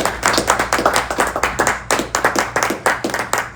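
Congregation clapping during a Pentecost sermon at a church, a dense run of hand claps in uneven bursts, loud and close, with no speech over it.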